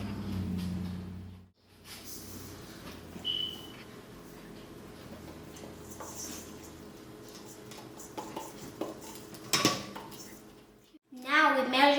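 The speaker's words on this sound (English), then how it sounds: "We measure 1 cup of sugar." Sugar being measured with a yogurt cup for a yogurt cake, a few soft clinks and scrapes of the cup and kitchenware, quiet and close, with a voice and kitchen noise in the background.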